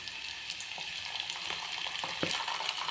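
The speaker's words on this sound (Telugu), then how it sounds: "ఇలా ఉల్లిగడ్డ వేగాలండి" Onions frying in oil with green chillies, curry leaves and mustard seeds, a soft continuous sizzle with light stirring taps, close but fairly quiet, no talk.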